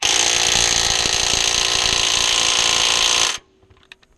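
A power tool whirs loudly and continuously while driving a subframe bolt home on a 2001 Chevy Cavalier, then cuts off abruptly, followed by a few faint metallic clinks.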